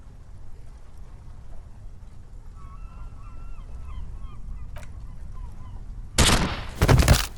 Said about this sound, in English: She pulls the trigger.